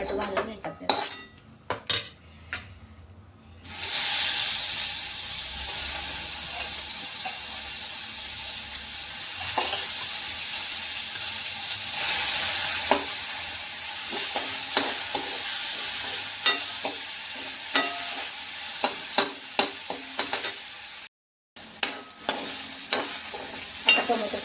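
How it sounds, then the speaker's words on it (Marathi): Tomato roasting in a hot pan on a gas stove, a steady sizzle under repeated scrapes and clinks of a spatula against the metal, close and continuous with a brief pause. "आणि टोमॅटो भाजून घ्यायचा आपल्याला."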